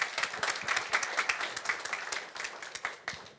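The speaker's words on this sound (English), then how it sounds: "please, a big applause to welcome him" Audience at a summit applauding to welcome a speaker, a close, lively patter of many hands clapping that gradually tapers off.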